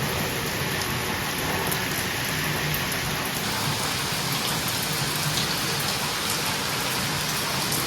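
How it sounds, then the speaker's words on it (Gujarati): Heavy rain pours down in a dense, continuous roar, spattering on surfaces close by, with no voices and no letup. "હવે બતાવું જો ખતરનાક વરસાદ પડે છે."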